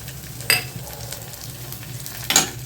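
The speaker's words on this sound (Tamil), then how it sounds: "அதில் கேரட்டையும் போட்டுருவோம் கொஞ்சம் வதக்கி விட்டுருவோம்" Carrots and green chili sautéing in a pan for kuzhi paniyaram, a steady close sizzle with two sharp spatula scrapes against the pan.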